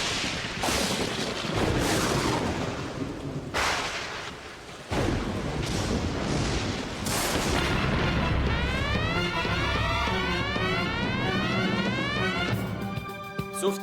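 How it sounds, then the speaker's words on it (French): Cartoon power plant struck by lightning, with loud continuous booms, crackling fire and rumbling explosions throughout, sharp blasts punctuating the roar and a rapid zapping electrical pattern near the end. "La foudre vient d'endommager la centrale électrique de votre secteur, provoquant des feux et des explosions."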